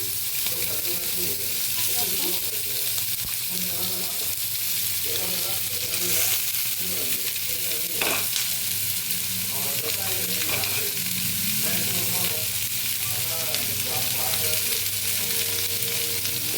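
Vegetables sizzle loudly and continuously in a hot pan, with a spatula scraping and stirring through the steady frying hiss and faint voice in the background.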